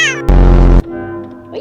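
A cat gives a loud, close meow in the middle, with a sung tune heard faintly before and after it.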